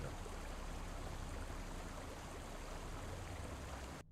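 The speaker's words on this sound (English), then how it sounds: "The decrepit catacombs are slightly obscured by the falling water." Steady rushing water falls in decrepit stone catacombs in D&D Online, a continuous broadband wash that stays loud and even for about four seconds before cutting off abruptly.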